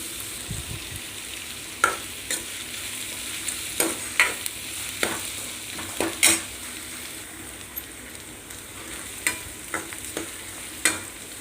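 Onions frying until browned in a pan, a steady moderate sizzle with regular sharp clicks of a spoon stirring against the metal, close by and without talk.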